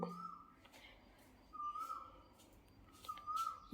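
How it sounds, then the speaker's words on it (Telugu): An Asian koel calls from nearby in a backyard fruit and vegetable garden: three rising, whistled notes spaced about a second and a half apart, fairly faint over a quiet background. "కోయిల్ సౌండ్ వినిపిస్తుందండి"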